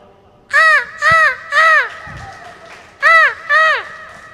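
Crow cawing imitated by a performer's voice at a cultural event: five harsh, nasal caws in two groups, loud and close, with faint crowd noise between them.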